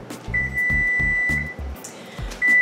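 An oven timer's electronic tone sounds in a home kitchen. A steady high beep runs for about a second, then returns briefly near the end, alongside low thumps and clatter.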